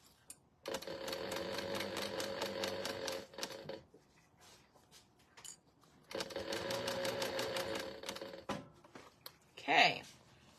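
A sewing machine stitches a cosmetic case in two steady, close bursts of rapid mechanical whirring, separated by a pause with light handling sounds, then a short squeaky noise at the end.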